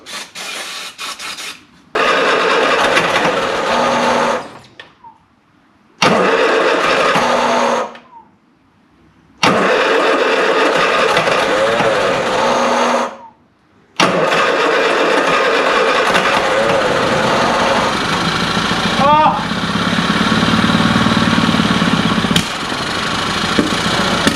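A classic Mini van engine, run for the first time after 25 years off the road with a carburettor needing a tune-up and a possible timing fault, cranks and catches in several bursts with short silent gaps, then settles into a loud rough idle.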